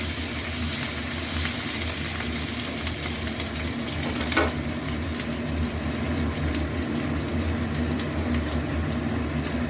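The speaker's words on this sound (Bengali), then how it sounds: "এরপর দিয়ে দেব আদা আর কাঁচা লঙ্কা, এটারে করে রেখেছি, আর কাঁচা লঙ্কাটা একটু ছোটো করে রেখেছি। এটা একটু ভাজা ভাজা হবে।" Ginger and chopped green chili frying in a pan, a dense continuous hiss of sizzling oil at steady loudness throughout, close, with one brief faint clink of a utensil midway.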